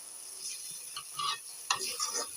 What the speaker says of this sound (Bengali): তারপরে মটরের সাথে মশলাগুলা সুন্দরভাবে কষাতে হবে। আমি এখন কষাচ্ছি।